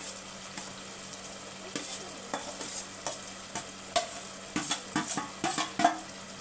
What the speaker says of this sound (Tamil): இப்போ சாதம் மிக்ஸ் பண்ணிக்கலாம்